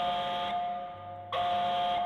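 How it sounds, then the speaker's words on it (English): Container alarm siren from the HBM Nuclear Tech Mod for Minecraft, a loud steady electronic whistle-like tone that cuts out briefly mid-clip and then resumes at full volume. "Container alarm."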